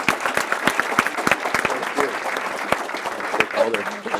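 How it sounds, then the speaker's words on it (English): Applause from the attendees at a school board meeting, with many hands clapping steadily and fairly close, and scattered voices talking underneath. "Another round of applause for Kendall and her family."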